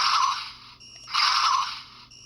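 A Star Trek Strange New Worlds phaser replica fires a single stun shot: a bright electronic burst, a brief dip, then a second burst, with a thin hum persisting underneath.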